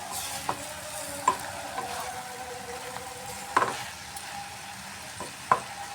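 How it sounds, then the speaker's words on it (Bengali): Sweet gourd and other vegetables, cooked down with spices in a pan, sizzle quietly while a spoon stirs them, with a few sharp scrapes and taps against the metal. "সবজিগুলোকে নাড়িয়ে দিচ্ছি মশলার সাথে"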